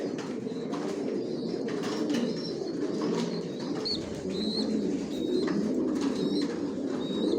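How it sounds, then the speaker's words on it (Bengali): Soft, overlapping coos from racing pigeons resting in a loft murmur continuously over a steady background hum, with occasional faint chirps and wing flutters. "এখান যে কবুতরগুলো দেখতেছেন এগুলো রেস্টে দেওয়া আছে"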